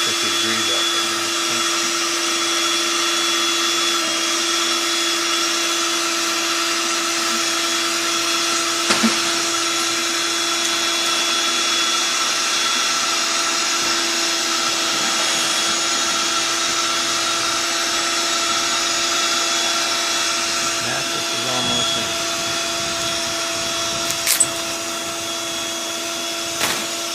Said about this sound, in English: Sounds like the mattress is empty. I'm going to go in and shut the pump off